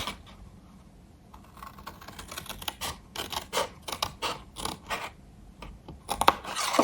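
Scissors cut through a cardboard Christmas chalet gift box, close up: a quiet start, then a run of rapid, crisp snipping and rasping strokes that grows louder toward the end.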